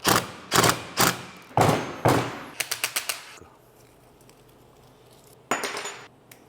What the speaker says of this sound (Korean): 먼저 잘린 앙카의 바깥 부분을 드라이버로 쳐주는 거야.